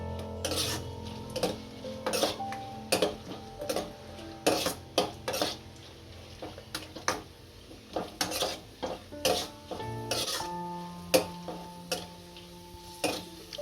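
Cashews, almonds and raisins roast in ghee in a pan. A spoon scrapes and clacks against the metal in an irregular stirring rhythm over a faint, steady sizzle, close and clear with no talking.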